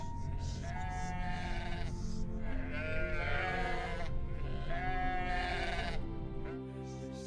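Sheep bleat repeatedly in an animated Bible story, several loud wavering calls overlapping on a steady background bed with no talking.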